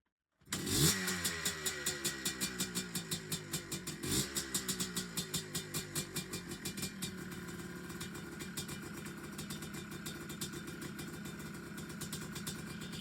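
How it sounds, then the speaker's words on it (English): A 1994 Yamaha Blaster ATV's two-stroke engine cold-starts with a sharp catch, then settles into a loud, close, rapid popping idle that steadies and continues evenly to the end. "this is gonna be cold start number 1 for you guys on the 1994 Yamaha Blaster"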